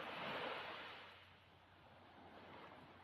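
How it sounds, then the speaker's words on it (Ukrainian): Soft, rushing sea surf on a beach swells and recedes, loudest early, then fades and builds again like a wave washing onto shore. "шум моря"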